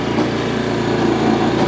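A small engine drones steadily on a Harbor Freight towable backhoe digging into hard-packed dry Arizona soil, a close, continuous mechanical hum with no talk.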